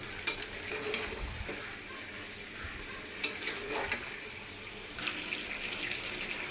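Meat and potatoes fry in a full kadai, giving a steady broadband sizzle with scattered clinks and scrapes of stirring throughout, close and moderately loud.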